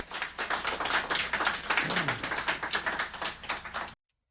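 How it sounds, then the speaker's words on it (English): A small studio audience at Greenway Studios claps after a live song, with close, brisk applause that continues for a few seconds and then cuts off abruptly. "Applause for that."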